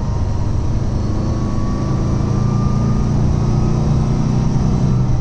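A Lancia Flavia Milleotto LX engine on light throttle, pulling up to 3,500 revs on a country road, heard from inside the car as a steady, even drone with a faint rising whine and no talking.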